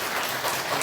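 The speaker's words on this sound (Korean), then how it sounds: "박수 한번 쳐줍시다." A short burst of clapping from a church congregation, a steady, moderately loud patter of many hands lasting under a second.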